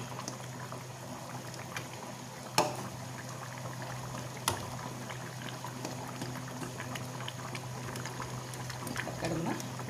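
A pot of fish head curry simmers at a steady rolling boil, with a continuous bubbling hiss broken by a couple of sharper pops, close by and with no voices.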